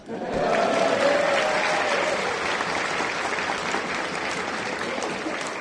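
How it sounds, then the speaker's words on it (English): Banquet audience at PaizoCon 2016 breaks into applause, a sudden loud burst of many hands clapping that stays full and sustained, with a brief tonal sound near the start. "how about a round of applause for any Paizo employee's name I forgot to say?"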